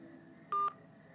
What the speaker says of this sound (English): every time the phone beeped, it was that one person calling